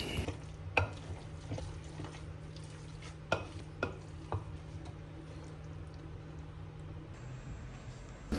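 Lumpia filling mixed with eggs and green onions, stirred in a bowl: soft, steady wet stirring with a few sharper clicks of utensil against the bowl, close and quiet, with no talk.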